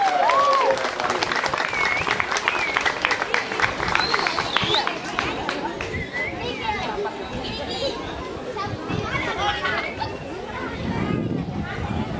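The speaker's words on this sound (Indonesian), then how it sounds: "Mari kita semua memberikan aplaus untuk Bapak Uskup" Crowd applause for the bishop at a parish welcome for the Archbishop of Larantuka during a confirmation celebration at St. Lodovikus parish: steady, dense clapping that lasts throughout, mixed with crowd chatter and murmuring voices.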